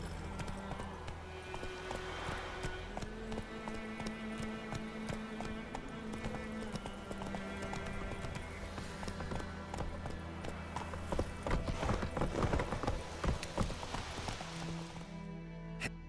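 Horse hooves galloping steadily in The Witcher 3 video game, a continuous rhythmic clip-clop under a layered game soundscape with music and ambience throughout, growing slightly louder toward the end.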